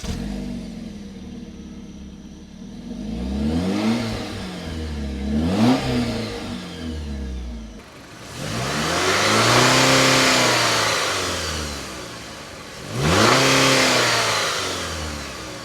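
A high-mileage Jeep Compass 2.4 liter four-cylinder engine revved repeatedly from idle, each rise and fall of pitch clearly audible, close and loud with no talking.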